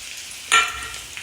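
Chopped onion and curry leaves hit hot oil with a sudden brief sizzle that quickly settles into a soft, steady frying hiss.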